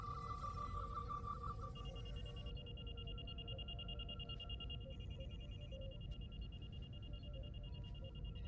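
Electronic beeping and alarm tones in the Star Trek: Resurgence video game, a rapid repeating high beep pattern that gives way to steadier sustained tones over a constant low hum, with no voices.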